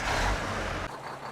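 A Kenworth K200 truck engine in Farming Simulator 22 rumbles loudly at low pitch, then drops sharply to a quieter idle partway through.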